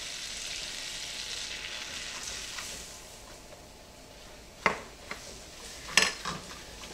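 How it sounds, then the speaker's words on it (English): Flour stirred into melted butter in a pan gives a soft continuous sizzle, with a few sharp clinks of a utensil against the pan near the end, quiet and close. "add 1/4 cup of some flour, and we're going to gradually stir it in"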